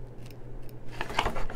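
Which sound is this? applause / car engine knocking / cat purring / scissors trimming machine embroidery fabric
scissors trimming machine embroidery fabric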